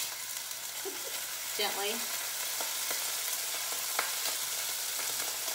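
Skirt steak sizzles and crackles as it is laid into a hot pan, a moderate frying hiss with a brief burst of spatter, while a voice speaks softly once.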